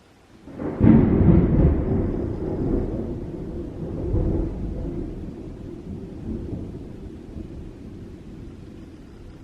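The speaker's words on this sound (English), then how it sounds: "That was some loud thunder." A single loud crack of thunder breaks close by, then rolls into a long, deep rumble that slowly fades, leaving faint rain-like hiss behind.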